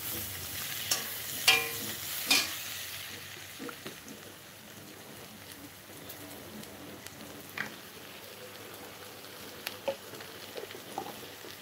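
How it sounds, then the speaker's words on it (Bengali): Ash gourd cooks with fish in a pan, sizzling steadily close by while a spoon scrapes and stirs, with a few sharper clanks of utensil on metal early on. "আজকে রান্না হবে চাল কুমড়ো, মাছ দিয়ে চাল কুমড়ো"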